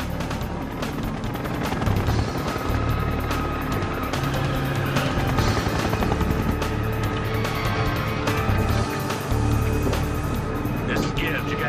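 A helicopter's rotor thrums and roars steadily throughout, mixed with engine noise and voices talking over it.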